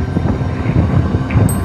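Strong wind buffeting a fishing boat at sea, a loud steady roar with low rumbling gusts filling the whole moment, no voices.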